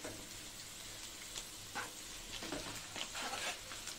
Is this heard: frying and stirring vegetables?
yes